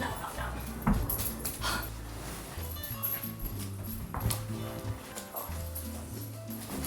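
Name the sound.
puppy whimpering and moving around in a room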